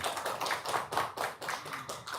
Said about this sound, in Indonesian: Tepuk tangan dulu dong buat Mbak Rati